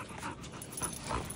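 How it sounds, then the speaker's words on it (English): Dogs wrestling and panting nearby, quick breathy pants and faint scuffling in short irregular bursts, fairly quiet with no talk. "Got dog wrestling right there."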